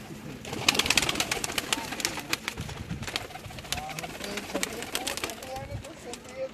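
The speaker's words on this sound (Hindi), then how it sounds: "ये उस्ताद बाहुतार शरीफ पाकिदो वाले उनके जोड़ों वाले कबूतर हैं।" Pairs of pigeons coo softly on a rooftop, a low murmuring burble that runs under steady nearby talk and clatter.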